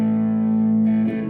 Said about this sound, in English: If I press Control 1, I have distortion.